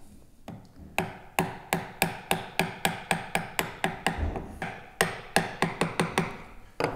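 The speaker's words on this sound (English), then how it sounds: "I'm going to put my chisel into that line and I'm going to tap it through" A chisel driven through wood with sharp mallet taps while hand-cutting a through mortise, around twenty crisp, evenly spaced strikes, close and loud, with a slight pause near the middle.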